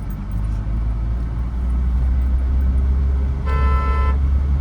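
A car's engine runs steadily under a broad road rumble during a driving lesson, swelling slightly as the car speeds up, and a short horn honk sounds near the end.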